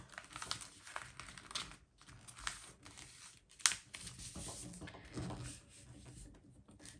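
A sheet of A4 paper is folded into a paper plane at close range, giving soft crinkles, rustles and creases with one sharper crackle midway, while a person talks quietly.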